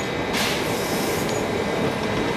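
Narrow gauge 3-foot railroad train running on rails, a steady close rumble and rolling noise with a brief brighter hiss, no talk.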